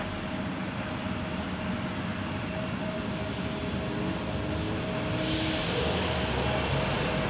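Air Canada airliner taxiing across runway 24 right at Toronto Pearson, a steady broadband jet engine roar with a faint whine, heard from a distance and gradually growing slightly louder near the end.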